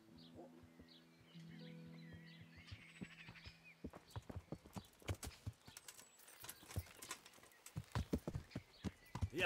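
Horse hooves clop steadily in an uneven walking rhythm, close and clear, with a faint low hum and a soft whinny early on, in the video game Kingdom Come: Deliverance.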